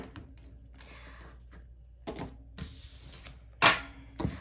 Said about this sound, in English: I will shuffle your tarot cards first, and then I shuffled oracle cards as well